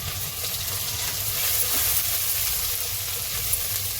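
Chilies and ginger sizzle in hot oil in a pan, alongside garlic, while cooking soybean Manchurian; a steady, close, broadband frying hiss runs continuously with faint stirring clatter underneath and no talking.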